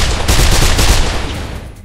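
Rapid, loud gunfire rattles in Mirror's Edge, a dense burst of closely spaced shots lasting nearly two seconds before tapering slightly at the end.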